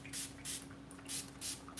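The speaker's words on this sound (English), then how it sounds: "Just spraying on a little more water to keep it hydrated." Water is sprayed over bread dough with a handheld spray bottle, four short, sharp hissing bursts in a quick, even rhythm, close and fairly quiet.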